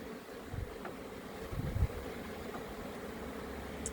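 Honey bees buzz steadily around a hive at a spring check, a dense continuous drone with a few louder thumps and rustles close by, and no voices.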